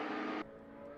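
A Porsche Sprint Challenge race car weaving behind the safety car at Valencia, a loud engine drone that cuts off abruptly partway, leaving a quieter steady hum.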